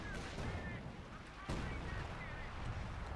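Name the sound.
artillery barrage landing in Company of Heroes 2 video game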